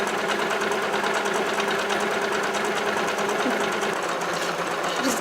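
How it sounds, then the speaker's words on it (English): A sewing machine stitches fabric for a hanging planter, running continuously with a rapid, even mechanical chatter, loud and close throughout without talking. "this is a little tedious, the whole length of it, we're just gonna sew it"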